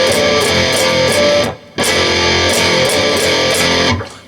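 Electric guitar plays a bluesy riff, loud and distorted, in a rhythmic repeating figure with a brief break midway.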